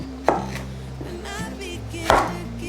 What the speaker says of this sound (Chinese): 把节瓜切片。